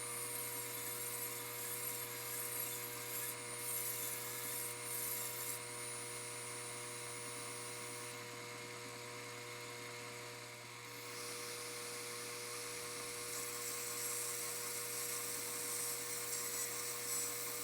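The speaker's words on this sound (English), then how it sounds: "Now with a through hole, I'll grind it smooth again." Steady high-pitched whine of a rotary grinder smoothing a drilled brass cartridge case for swaging 50-110 brass to 11mm Mauser, continuous and fairly loud with a brief dip midway and no talk.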